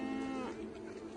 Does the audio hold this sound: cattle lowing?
yes